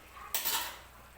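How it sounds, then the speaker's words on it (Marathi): A utensil scrapes and clinks against a pot while chicken is mixed for a spicy chicken sukka and rassa, one short burst of metallic stirring rising suddenly, then fading into quiet background. "तर परत एकदा हे मी व्यवस्थित मिक्स करून घेते चिकन."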